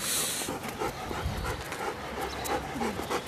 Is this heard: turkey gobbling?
no